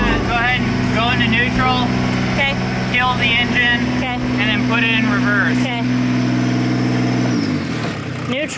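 Sailboat's inboard engine running at a steady low throb with tonal hum, people talking over it, then the engine cuts out near the end.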